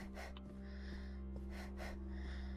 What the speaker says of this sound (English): your breathing, for as much as you hear it, it's not the worst